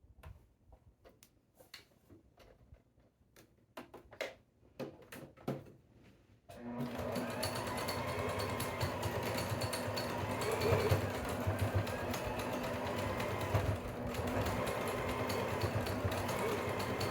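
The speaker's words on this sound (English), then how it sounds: "stitch it on with my sewing machine" A few handling clicks and taps, then a sewing machine starts up and runs steadily with a fast mechanical whir, close and continuous for about ten seconds.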